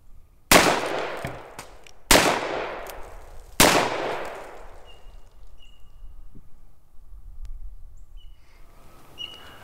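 Three .44 Special rounds fired from a Ruger Blackhawk Bisley revolver outdoors, loud sharp reports spaced about one and a half seconds apart, each with a decaying echo, followed by quiet ambience with faint birds.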